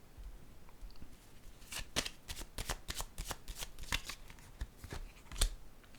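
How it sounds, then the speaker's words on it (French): Tarot cards are handled and laid down on a table in a quick run of crisp, papery slaps and riffles, close and fairly soft, with no talking. "Je vais déposer une carte ici pour voir."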